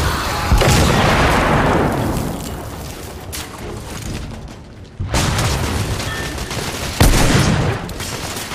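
A grenade explosion in The Order: 1886 video game, heard as loud booming blasts amid sustained gunfire, with heavy bursts at the start, middle and near the end, close and dense.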